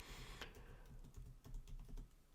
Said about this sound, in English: I'm just typing in my password to my Mac.